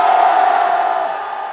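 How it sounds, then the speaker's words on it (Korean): A big outdoor political rally crowd in Yeouido, Seoul, protesting against President Yoon's impeachment, roars and shouts in a loud, sustained cheer that slowly fades slightly, close and dense. "우리의 함성이 들리십니까?"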